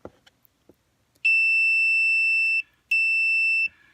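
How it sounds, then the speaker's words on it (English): An ohm meter gives its continuity beep as its two leads touch. A few light clicks come first, then two clear, steady high-pitched tones, the first about a second and a half long and the second shorter. "If there's still connectivity between the two lines, you'll get the beep."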